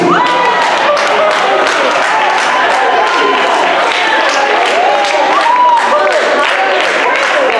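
A church congregation at a Sunday service led by a bishop breaks into loud, sustained applause, with cheers and shouting voices layered over steady clapping throughout.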